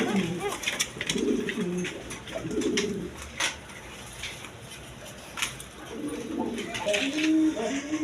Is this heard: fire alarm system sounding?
no